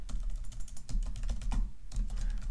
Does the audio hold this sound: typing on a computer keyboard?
yes